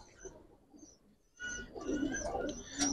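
Pigeons at a pigeon farm, with soft cooing and chirping in the background. The bird sounds grow busier and louder partway through, mixed with a background murmur.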